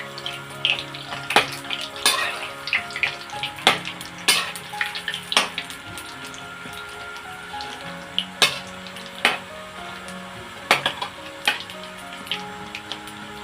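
Coconut pakoda bubbling in hot oil, a continuous close sizzle broken by repeated sharp clinks and scrapes of a ladle stirring the fritters at an uneven rhythm.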